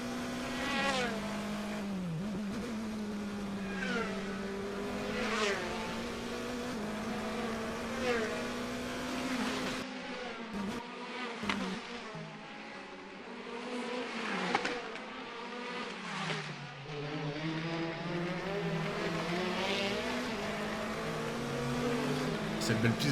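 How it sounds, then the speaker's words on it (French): A Formula 3 race car at the Macao street circuit screams past on an onboard view, its engine note rising and falling through repeated upshifts and braking downshifts, loud and close throughout. "Caméra embarquée avec Félix Rosenqvist"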